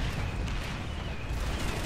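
Dense gunfire from the video game Planetside 2 rattles in a continuous, overlapping barrage of shots that fills the whole stretch without pause.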